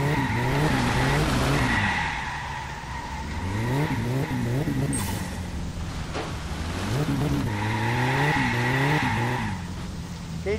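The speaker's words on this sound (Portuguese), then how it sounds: "Quem disse que carro de tração dianteira não faz drift" A front-wheel-drive Gol hatchback with a 1.6 AP turbo engine drifts in My Summer Car, its tires squealing in long wavering skids over a steady revving engine, loud and close throughout.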